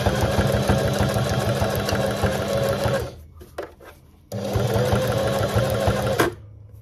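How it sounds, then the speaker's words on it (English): A sewing machine overlocking a patch onto an army backpack, running loud and steady with a fast mechanical whir, pausing briefly midway, then running again before stopping, close up with no talk. "I'm going to pop this bit over and just overlock it."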